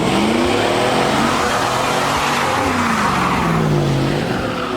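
An old Suburban accelerating hard with tires squealing, a loud continuous engine roar rising and falling in pitch alongside a screeching skid, fairly close and sustained.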